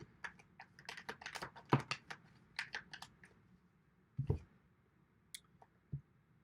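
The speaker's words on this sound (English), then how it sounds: "Let's keep shuffling." Irregular soft clicks and riffling snaps of tarot cards being shuffled by hand, close and quiet, in uneven bursts.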